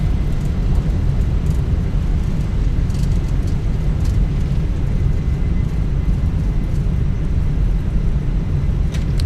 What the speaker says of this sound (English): Nose down gently, reversers are out, decelerating.